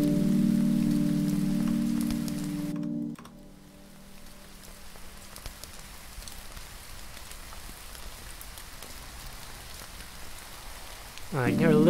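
Steady rain patters continuously on a surface, with a low droning tone at the start that cuts off, then an even hiss of falling drops.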